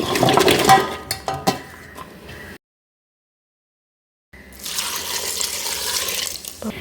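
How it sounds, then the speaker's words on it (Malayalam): Water runs and splashes from a tap while lentils are washed, stops for a couple of seconds of silence, then resumes as a steady close rush. "ഇനി നമുക്ക് പരിപ്പ് കഴുകിയെടുക്കാം"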